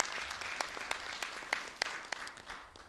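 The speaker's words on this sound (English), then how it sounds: "I think that deserves a round of applause." Faint, scattered clapping in the Malawian parliament, sparse individual claps rising and falling over a quiet room for a few seconds.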